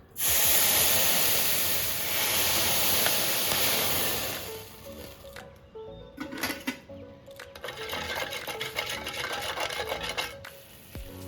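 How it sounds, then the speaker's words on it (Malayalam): Sugar water boils in a pan for a banana pudding, giving a steady loud hiss for the first few seconds, then a softer bubbling with light clinks and stirring scrapes. "ഇതിപ്പോൾ നന്നായിട്ട് തിളച്ചിട്ടുണ്ട്"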